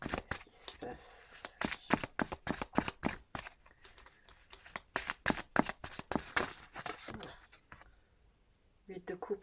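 Tarot deck shuffled by hand up close, dense bursts of riffling card slaps and flutters in quick rhythmic clusters, pausing briefly before a last few snaps, with a voice talking intermittently.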